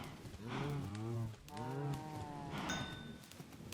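Cows mooing on a cow farm in Minecraft, two long, drawn-out moos in a row followed by a shorter third call, close and clear with no speech.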